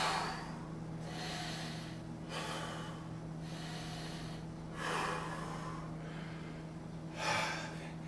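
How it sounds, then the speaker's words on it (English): Slow, deep breaths drawn during a stretching exercise, with about three broad airy exhales spaced a couple of seconds apart over a steady low hum, close and fairly quiet. "3 breaths"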